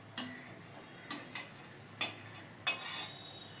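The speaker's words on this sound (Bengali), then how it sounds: "এইভাবে একটু মাঝে মাঝে নেড়েচেড়ে মিশিয়ে দেবেন" Spinach (palong shak) being stirred in a cooking pan, heard as four soft, separate scrapes and clinks of a utensil spaced about a second apart over a faint, quiet background.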